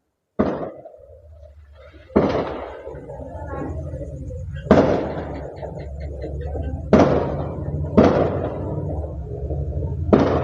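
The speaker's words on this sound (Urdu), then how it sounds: "ابھی آپ نے سنا کہ کس طرح سے شادی میں پٹاخے چھوڑے جا رہے ہیں" Firecrackers set off at a wedding: a series of sharp, loud bangs, about five to six spaced a second or two apart, ringing over a steady background of crowd noise and music.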